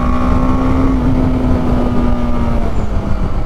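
A BMW G310R motorcycle cruises at about 100 km/h in fourth gear, its steady engine drone holding a constant pitch under heavy wind rush, close and loud throughout.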